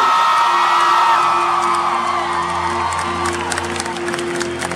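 A huge concert crowd in Argentina cheering and whooping loudly, with a sustained roar, scattered shouts and applause building over nearly five seconds, a bright sung or shouted tone riding above the din.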